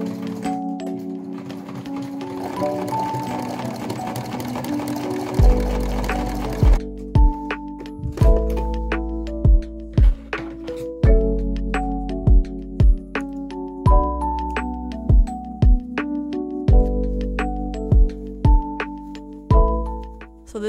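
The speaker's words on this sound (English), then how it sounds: "getting out my sewing machine, I'm just gonna start going around everything" Home sewing machine stitching around the edges of a fabric hammock for pet rats, running in short bursts with steady rapid clatter, pausing between seams, close and fairly loud with no talk.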